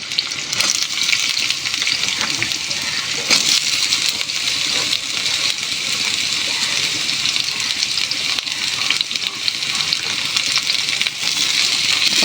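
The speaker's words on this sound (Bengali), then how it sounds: "এই সবজিগুলো একটু ভেজে নেবো আগে ফোড়নের সঙ্গে দিয়ে" Mixed vegetables with bitter gourd frying in hot oil with whole spices, a loud, continuous sizzle with occasional crackles and the scrape of stirring, steady throughout with no talk.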